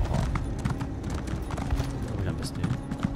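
Rhythmic hoof clip-clops from a horse in the Elder Scrolls Online game, steady and close, with someone talking over the footsteps.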